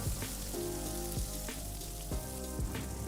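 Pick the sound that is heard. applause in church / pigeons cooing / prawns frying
prawns frying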